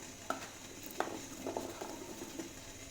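A spoon scrapes and stirs sifted cocoa powder and milk powder into melted butter for homemade chocolate, with a few distinct scraping strokes over a low steady background.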